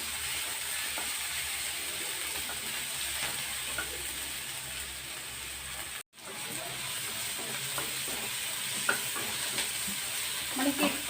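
Masala pasta ingredients fry lightly in a pan, giving a steady close hiss and sizzle with faint scattered stirring scrapes and a brief dropout near the middle.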